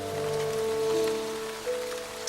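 Rain falls steadily on a beautiful white garden in South Africa, an even close hiss of drops on foliage with a low tonal hum beneath and a couple of small louder patters near the end.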